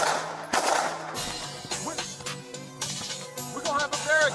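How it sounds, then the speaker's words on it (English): Several sharp gunshots ring out amid a chaotic scene, with people shouting and a wailing siren in the background. "We counted about 20 gunshots in that brief exchange."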